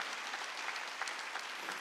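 A church congregation at a Wednesday worship service claps together in a dense, steady wash of applause that fills the room from start to finish with no clear breaks.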